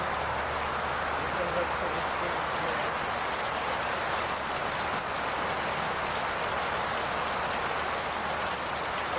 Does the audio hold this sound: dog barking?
no